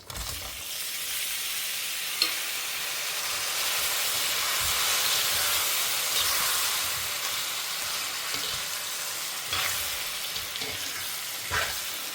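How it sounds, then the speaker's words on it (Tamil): Onion, tomato and garlic hit hot oil in a pan with fried chana dal for an oil-rich brinjal kuzhambu, setting off a loud, steady close sizzle that swells midway, with a few sharp spatters and stirring clicks and no talking. "நம்ம இப்போ இந்த வெங்காயம், தக்காளி, பூண்டை இதோடு ஆட் பண்ணிக்கலாம்."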